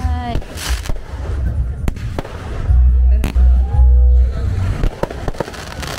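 Fireworks boom and crackle in a series of sharp bursts at a beach in Uluwatu, Bali, with whistling trails and excited voices talking nearby.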